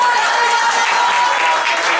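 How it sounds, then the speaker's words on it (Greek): Applause for a performer named Eirini at a karaoke night; a short burst of dense, bright clapping from a small crowd, loud and close, filling the whole moment. "Χειροκρότημα στην Ειρήνη."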